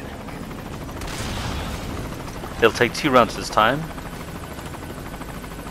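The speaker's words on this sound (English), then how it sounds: "Oh, and the chopper comes back." Helicopter returning in Metal Gear Solid: Ground Zeroes on a Jamais Vu mission, a steady rotor drone under gunfire-like game effects while someone talks over it.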